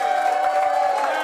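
A crowd at a campaign event in Augusta, Maine, cheering and whooping with enthusiasm for a gubernatorial candidate, a brief steady roar of voices with a shrill held tone on top.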